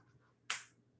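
A single sharp clap as a person pushes up off the floor and claps their hands during a yoga push-up move, heard once, close and fairly loud against a quiet background.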